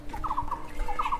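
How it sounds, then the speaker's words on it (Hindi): An unidentified bird in rural Himachal Pradesh gives turkey-like gobbling calls, two quick bursts of rapid warbling notes, fairly near and clear over faint background noise, with no talking. "एक और पक्षी की आवाज़ पीछे,"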